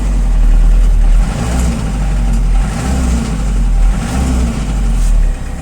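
A loud, close diesel engine of a mini tractor with a cab, rumbling steadily, rising in pulses as it is revved repeatedly.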